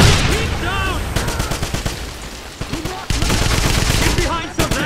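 Heavy gunfire in the 2009 video game Wolfenstein, with rapid automatic bursts and overlapping shots, loud and close, and voices shouting in the middle of the fighting.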